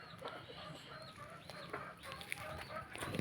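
Chickens cluck continuously over a steady outdoor background, several birds overlapping with occasional sharper calls, moderately close.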